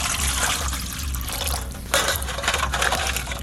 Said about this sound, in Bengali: খুব ভালো করে ডিমগুলো জল দিয়ে 2-3 বার করে ধুয়ে নেব।